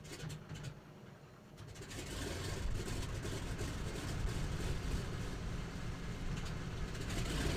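Twin radial engines of a simulated DC-3 / C-47 airliner run after start-up, a dense, steady rumbling roar that swells slightly after a quieter first second and then holds at a constant level, with no voices.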